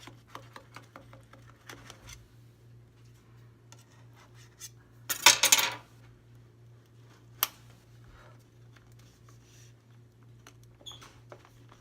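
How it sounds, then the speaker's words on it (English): A knife scrapes around the edge of a cheesecake pan, a quiet metallic rasp peaking in one short burst, with faint clicks and taps scattered before and after over a low steady hum. "you could run a knife along the edge there"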